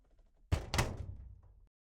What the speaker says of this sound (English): I think maybe a slammy door.